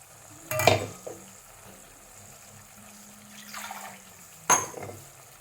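Ground roasted coconut paste goes into a pan of chicken curry, giving two short bursts of sizzling and stirring about four seconds apart over a quiet, steady frying hiss, close by with no talk.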